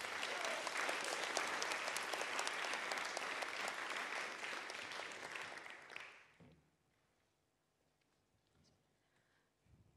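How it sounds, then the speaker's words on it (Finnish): A concert audience applauds warmly at a 20th anniversary show, a dense, steady wash of many hands that fades out after about six seconds into near silence. "Että annetaan aplodit vanhemmille."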